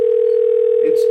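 A steady, continuous tone on a cell phone during an outgoing call to a friend plays loud and close for the whole moment without a break.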